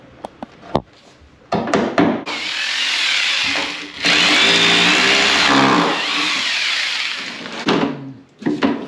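A power tool drones for a few seconds at a time, smoothing wood for a new storage box, with a steady loud whine broken by brief pauses and a few sharp clicks and knocks at the start and end.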